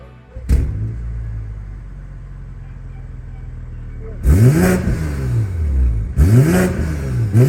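A BMW G30 540i with a custom Monaco Motorworks exhaust, valves held open, idles with a deep exhaust burble, then revs hard twice, each blip rising and falling in a loud raspy sweep.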